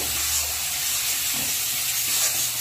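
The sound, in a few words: masala spice paste frying covered in a pan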